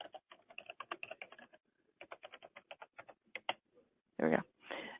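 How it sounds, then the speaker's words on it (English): Clattering keystrokes on a computer keyboard come in quick bursts with short pauses, close and fairly quiet, during an online training session, with a brief voice near the end. "Oh, I keep typing the wrong thing."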